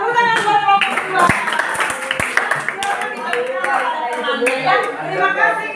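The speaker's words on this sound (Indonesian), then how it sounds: "Tepuk tangan buat kelompok 2." Schoolchildren in an Indonesian classroom clapping for their classmates in group 2, a loose, uneven patter of hands heard under a teacher's voice and lively chatter.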